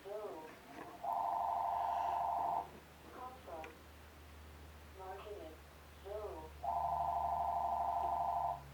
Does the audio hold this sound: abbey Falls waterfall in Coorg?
no